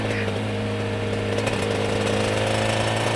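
A Suzuki RG500 two-stroke motorcycle with a dry clutch idles close by, its steady engine drone carrying a continuous metallic rattle and clatter at a constant level.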